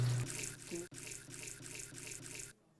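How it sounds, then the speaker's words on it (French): Water runs steadily from a pedal-operated tap at a health facility hand-washing station, a close splashing stream with a brief break before it cuts off near the end. "Le robinet à pédales"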